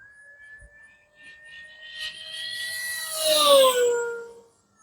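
An E-flite V900 RC jet plane makes a full-throttle high-speed pass, its loud whine rising as it approaches and peaking close by, then dropping in pitch and fading as it passes.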